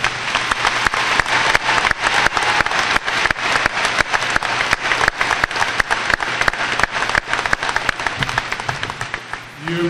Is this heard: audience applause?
yes